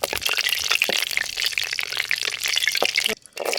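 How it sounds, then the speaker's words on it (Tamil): Dried red chillies crackle and sizzle in hot oil in a pan, a dense, steady frying hiss with sharp pops throughout, briefly cutting out near the end before resuming. "காஞ்ச மிளகா போட்டாச்சு லைட்டாக அப்படியே ஒரு பொன்னிறமாக வறுத்து"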